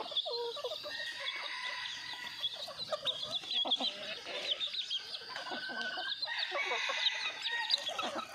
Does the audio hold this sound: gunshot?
no